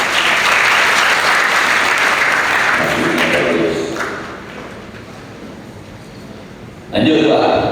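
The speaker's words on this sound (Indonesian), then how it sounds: "oke, tepuk tangan" Applause from an audience at a civil servant training session, loud and dense at first, then thinning to a softer patter before a brief loud burst returns at the end.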